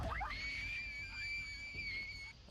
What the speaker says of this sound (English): A sudden loud scream sends the girls running in terror